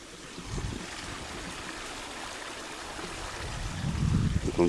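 A small wild river runs over a little waterfall, giving a continuous gurgling flow at moderate distance that swells louder near the end.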